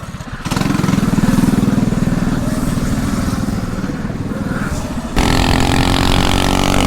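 A homemade mini electric supermoto rides off under full throttle, its steady motor whine and wind rush holding loud and close for several seconds, then shifting to a brighter tone near the end.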